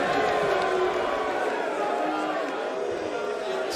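A darts crowd at the Dutch Darts Championship final responds to a 180 from Michael Smith with a sustained, murky swell of cheering and chatter, with no sharp peak, under commentary.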